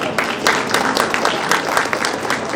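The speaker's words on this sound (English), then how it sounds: "Please give him a big round of applause." An audience at a Bohra community gathering gives a warm round of applause for a naval commodore guest of honor, a loud dense burst of many hands clapping steadily throughout.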